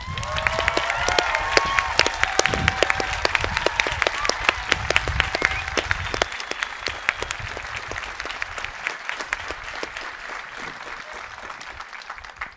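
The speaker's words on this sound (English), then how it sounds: "Let's give our graduating seniors and graduating students a hand of applause." An audience at a spring commencement ceremony at St. John's College in Santa Fe claps for graduating students. The applause is sustained and dense at first, then thins slightly toward the end, with crisp individual claps standing out throughout.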